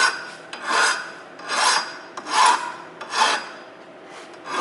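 A metal file rasps across a metal edge in four or five long, even strokes with short pauses between them, close and clear, with no talking.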